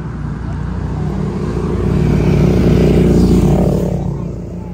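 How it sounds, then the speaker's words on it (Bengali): Busy road traffic with several cars passing close by, a loud continuous engine and tyre roar that swells in the middle and eases off. "অনেক গাড়ি এসেছে"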